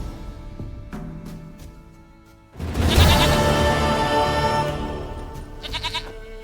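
A goat bleats in The Witcher 3: Wild Hunt: one long, loud, wavering bleat that rises suddenly out of quieter game ambience, with a shorter call near the end.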